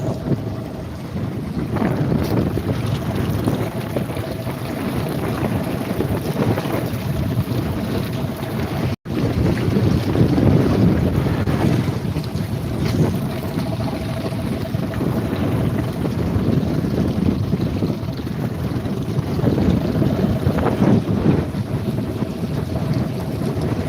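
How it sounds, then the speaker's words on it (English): Wind gusting and buffeting around a houseboat on the ocean, a loud rough rumble of air with a faint engine hum beneath, constant for the whole stretch apart from one short break. "This is the problem with the wind here."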